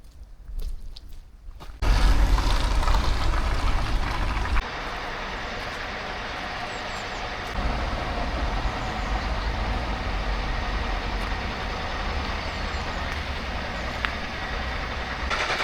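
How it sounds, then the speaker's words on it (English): Roadworks below a building at Uppsala University in Sweden: a loud, steady heavy-machinery rumble with a sharp onset after a quiet start, continuing unbroken under faint scattered knocks and clatter. "they're doing some roadworks down below us and all I can hear is bang"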